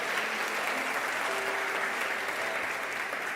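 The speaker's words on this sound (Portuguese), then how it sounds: "Você pode aplaudir a Ele, porque é o Deus que faz" Church congregation applauding during an evening service, a steady, dense wash of clapping that holds at an even level throughout, with no voices standing out.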